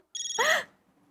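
A phone ringtone sounds once: a short, bright electronic chime that rises into a warbling melodic burst and then cuts off, heard clearly against a quiet indoor background.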